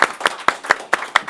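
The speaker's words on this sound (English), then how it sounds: "Give a round of applause for our fans." Sparse, rhythmic hand claps ring out at a local variety show, about six sharp claps spaced roughly a quarter second apart, moderately close, with no voices over them.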